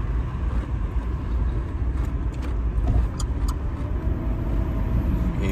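Car being driven on an afternoon school pickup, a steady low road and engine rumble from inside the cabin with light rattles, no talk.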